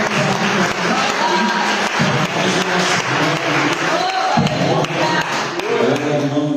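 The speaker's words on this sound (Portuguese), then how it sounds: "Queria que vocês aplaudissem pelas duas palavras pregadas" Congregation at an evening celebration service in a church applauding: dense, steady clapping from many hands fills the room at full volume throughout, with scattered voices mixed in.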